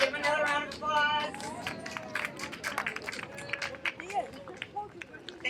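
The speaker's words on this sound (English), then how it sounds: "Let's give him another round of applause." An audience applauds at an outdoor community celebration at High Rock Tower Park, a dense, steady patter of clapping that runs the whole time, with voices and cheers mixed in.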